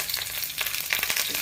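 Curry leaves sizzle and crackle as they hit hot oil in a pan, a steady bright hiss with small pops, close and alone without talk.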